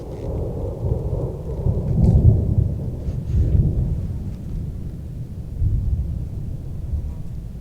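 Heavy rolling thunder in an elk-hunting area, deep rumbles that swell and fade in several waves under steady rain, with no one talking.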